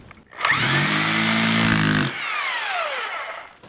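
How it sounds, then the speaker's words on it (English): A hammer drill in hammer mode, made for boring concrete and masonry with a carbide bit, starts up with a harsh buzzing rattle over its whining motor, runs for under two seconds, then winds down with a falling whine. "Let's see what hammer mode sounds like here."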